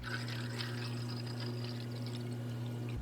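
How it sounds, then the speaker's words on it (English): Water pouring from a pitcher into a container, up to about 500 milliliters, a continuous close splashing and gurgling stream that runs steadily without pause and with no talking. "A pitcher of water. Fill it up to 500 milliliters of water."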